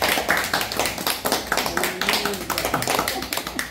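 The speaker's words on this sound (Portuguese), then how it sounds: "Uma salva de palmas especiais." A small group claps for an elderly follower, quick close-up handclaps in a steady, fairly loud run, with a voice speaking briefly partway through.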